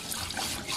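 Water runs and splashes in a sink while rice is rinsed, a brief, soft, gurgling wash of liquid with no voices.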